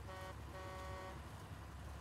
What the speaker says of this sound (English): I'm hearing the honking.